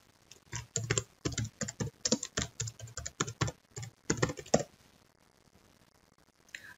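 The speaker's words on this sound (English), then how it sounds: "Type a code" Computer keyboard typing in quick bursts of crisp keystrokes, with several short pauses before falling quiet near the end; no talking.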